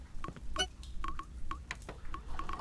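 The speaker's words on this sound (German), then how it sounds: "Also muss ich mir immer das Telefonat anhören." Telephone dialing tones in the horror video game Cry of Fear, a quick irregular series of short beeps at moderate volume with no talk over them.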